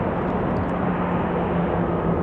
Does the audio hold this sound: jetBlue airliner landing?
yes